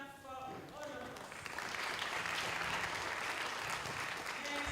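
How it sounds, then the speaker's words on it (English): Church gathering audience applauding together, a steady wash of clapping that builds and holds, with a voice audible over the start. "Let's clap for all of us."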